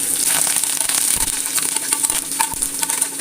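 Dried red chillies and curry leaves fry in hot oil for a cooker sambhar saadham tempering, giving a loud, continuous sizzle with occasional scraping stirs close by.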